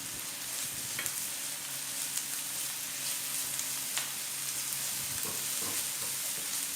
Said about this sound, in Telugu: ఈ ఉల్లిపాయలు కొంచెం దోరగా వేయించుకోవాలి